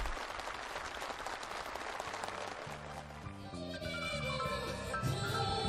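Faint applause from participants at a North Korean housing handover ceremony, soon joined and covered by festive music.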